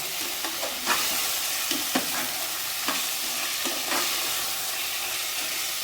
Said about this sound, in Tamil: இதில் கொஞ்சம் நேரம் வதங்கட்டும்